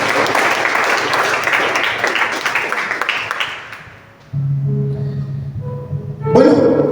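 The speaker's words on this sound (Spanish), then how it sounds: "Denles aplauso al Señor en esta noche." A church congregation applauds during an evening service, broad dense clapping for about four seconds that fades out, followed by sustained organ-like tones and a voice.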